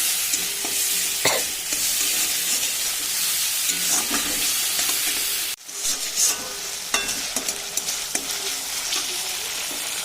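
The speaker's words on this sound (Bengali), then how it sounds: "মশলাটা ভালো করে কষানো হয়ে গেছে" A spice paste of ginger, cumin, dried chilli and poppy seed sizzles steadily in hot oil for an aloo dum, with repeated stirring scrapes and a momentary break midway before the frying picks up again.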